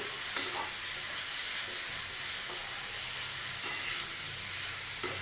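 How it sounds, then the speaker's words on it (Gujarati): Grated beetroot fries in hot ghee while being stirred, a steady soft sizzling hiss with occasional faint scraping strokes, close and even throughout. "હવે આપણું ઘી ગરમ થઈ ગયું છે આપણે આ બીટનું છીણ લઈ લઈશું હલાવી લઈશું તેને"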